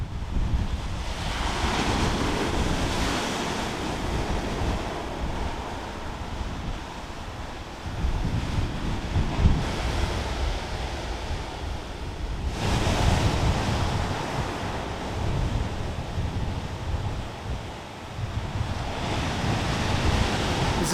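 Ocean surf at South Milton Sands beach in Devon rolls in broad, continuous washes with strong gusty wind buffeting the microphone, loud and close with periodic surges as waves break.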